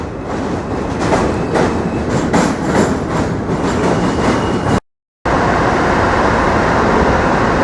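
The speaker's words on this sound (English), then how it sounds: "Hold on, the train's coming." A train rumbles past up close in New York near the World Trade Center construction site, a loud steady roar with rhythmic clacking that cuts out briefly, then resumes just as heavy, with no talking over it.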